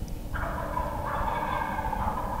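Wild turkeys roosted in trees during a Missouri youth season opening morning gobble from close by at dawn, one long rattling gobble rolling into a second, over steady outdoor background hiss.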